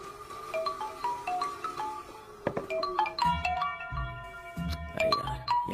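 Mobile phone ringing with an incoming call in a Hindi horror-comedy film scene, a repeating melodic electronic tone pattern, moderately quiet, with a few low thumps mixed in toward the end.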